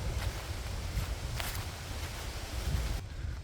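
Cold October wind buffets the microphone on a worn hiking trail, a steady low rumble with faint rustling and footsteps mixed in, continuous and close throughout with no talking.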